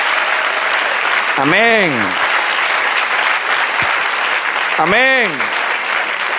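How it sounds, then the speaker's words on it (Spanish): Church congregation applauding loudly during a sermon, a sustained burst of clapping with voices calling out twice over it. "Den un aplauso al Señor."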